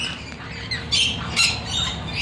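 A pet parrot squawks in short harsh bursts, close by, with a few brief bright calls over steady background noise and no talk.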